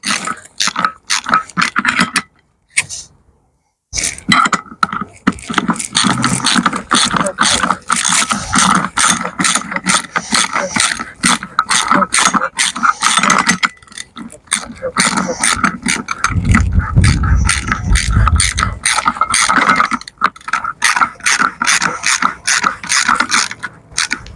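A BMW E92 3 Series front suspension nut is tightened with a ratchet, giving rapid, loud, close clicking in long runs with brief pauses and some mechanical clatter.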